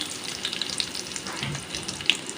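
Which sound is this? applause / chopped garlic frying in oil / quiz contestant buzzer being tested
chopped garlic frying in oil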